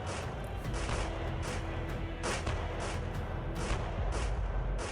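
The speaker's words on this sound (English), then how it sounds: "Muskets fired almost continuously as artillery battered both sides" Musket and artillery fire from a simulation game of the 1805 Battle of Austerlitz: a dense, continuous roar of volleys with repeated sharp cracks and booms, loud and unbroken throughout.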